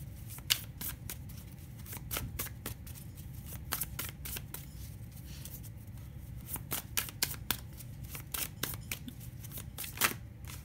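Osho tarot cards being shuffled by hand, a quiet run of crisp riffling snaps and soft slides repeated at an uneven pace, close by and alone.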